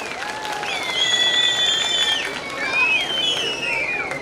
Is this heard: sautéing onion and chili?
no